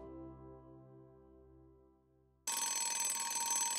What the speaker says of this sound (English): the alarm went off